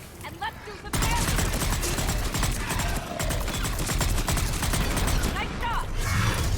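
Gunfire in the video game Mass Effect 3 bursts in after a short quiet lead-in, then continues as dense rapid-fire volleys that stay loud and unbroken to the end.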